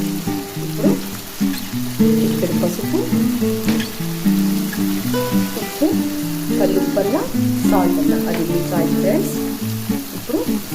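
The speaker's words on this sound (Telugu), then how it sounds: "ఆయిల్లో వంకాయలు బాగా ఫ్రై అయ్యింది" Brinjals frying in oil in a pan for a spicy eggplant curry, a constant close crackling sizzle under continuous talking and background music.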